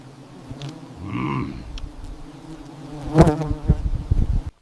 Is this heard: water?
no